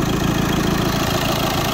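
An Audi A6 C7 engine idles with the bonnet open, a steady, fairly loud low rumble with faint knocking pulses running evenly and alone throughout.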